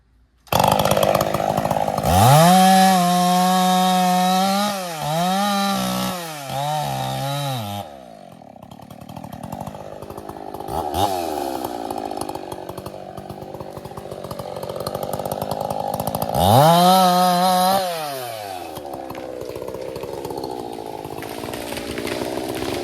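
A chainsaw bucks a hemlock log outdoors, loud and close, revving in bursts with pitch dips as the chain bites into wood, then idling and surging again in a second cut near the end.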